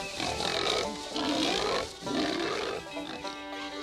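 An escaped domestic hog fighting wild boars, deep rasping grunts and roaring squeals in rhythmic surges, loud and close, with a voice faintly underneath.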